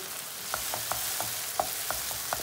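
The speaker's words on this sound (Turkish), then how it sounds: "Tam bu aşamada içine 1 yemek kaşığı domates salçası atıyoruz." Tomato paste fries in a pan with chopped tomatoes and peppers, giving a steady sizzle. A spoon clicks and taps against the pan at a regular rhythm as the mixture is stirred, with no voices.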